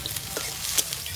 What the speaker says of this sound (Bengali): তেলের মধ্যে দিয়ে দেব কেটে রাখা আদা, রসুন